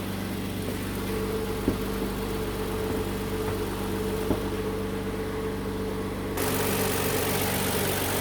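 A Kia All New K7 LPG engine idling with a steady low rumble and faint periodic ticks, growing slightly louder near the end.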